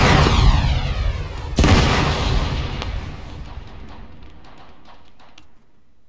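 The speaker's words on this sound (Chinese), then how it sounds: "这是 Bravo 开枪。" Gunfire in the ArmA military video game: two heavy booming shots, the first at the outset and another a moment later, each followed by a long rolling echo that slowly fades.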